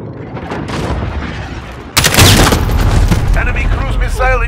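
A cruise missile strike detonates in Call of Duty Modern Warfare online play, a sudden loud boom cutting through ongoing gunfire and battle noise, followed by dense crackling rumble and chirping game effects, with a voice speaking over the mix.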